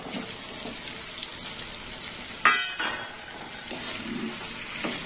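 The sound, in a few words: fried potatoes and prawns added to pan, frying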